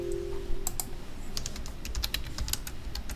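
Keystrokes from a computer keyboard as a SQL query is typed into SQL Server, a quick irregular run of close, crisp clicks over a low steady hum, with no talking.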